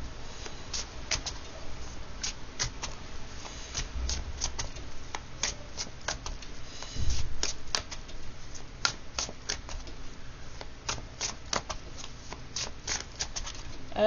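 A deck of cards being shuffled again and again, with rapid riffles and sharp flicks repeating in a steady rhythm at close range, plus a few soft thumps and no talk.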